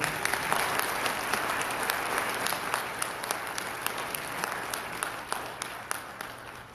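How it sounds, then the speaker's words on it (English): An audience at an Idaho governor candidate forum gives a round of applause, a steady, even clatter of many hands with a few sharper claps standing out, heard from a moderate distance. "Big round of applause for Eric"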